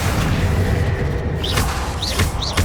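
A Confringo blasting spell explodes in the video game Hogwarts Legacy, giving a loud, dense boom with sustained roar and whooshing spell effects throughout.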